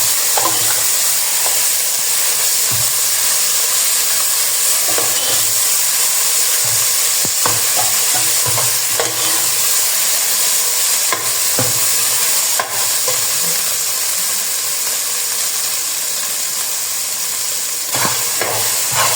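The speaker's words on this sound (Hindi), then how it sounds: "यहाँ पर मैंने डाला है अदरक लहसुन का पेस्ट" Onions frying with ginger garlic paste in a pan, a continuous close sizzle and hiss with intermittent scraping clicks of stirring, no talking.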